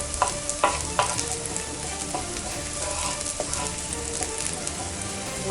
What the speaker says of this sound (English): saute that garlic